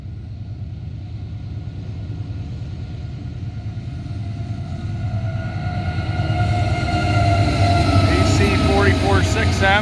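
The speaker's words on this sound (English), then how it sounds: "Here at Oak Harbor, we have an eastbound intermodal coming." An eastbound BNSF intermodal freight train approaches and passes at Oak Harbor, its rumble swelling louder through the clip with a sustained horn-like tone building toward the end.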